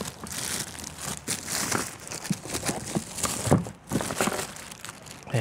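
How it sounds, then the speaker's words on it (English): Continuous close crinkling and tearing of plastic wrappers being pulled off a Robens Fire Moth camping stove system, busy and fairly loud throughout with brief pauses and no talking. "The first time I'm opening this, so it's still in its plastic wrappers inside."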